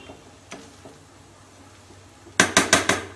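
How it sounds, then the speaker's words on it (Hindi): Kashmiri pulao of rice with dry fruits and fried onions, gently mixed in a pot: soft scraping and faint taps, then a quick run of four bright metallic clinks of the spoon against the pot. "अभी इसको हल्के हाथों से मिक्स कीजिए।"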